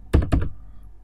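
Two quick, close keystrokes on a computer keyboard while entering a ping command, a pair of crisp taps that fade into quiet.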